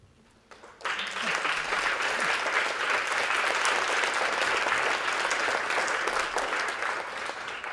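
Audience applause at a keynote address breaks out suddenly after a brief quiet moment, a dense, sustained clapping from a large crowd that holds steady and only begins to thin slightly toward the end.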